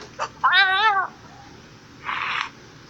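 A cartoon cat meow for the Comfort Kitty character in a quiz app: one clear, close, drawn-out meow, followed by a short breathy burst, with no talking.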